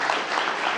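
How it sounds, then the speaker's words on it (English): An audience at a contractors' day event gives a round of applause, a brief, even burst of many hands clapping at moderate distance. "Let's give them a round of applause"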